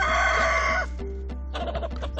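Roosters on a farm, one penned apart as rival males face off, give a loud sustained crow lasting nearly a second, followed by softer repeated clucking and calls from the flock nearby.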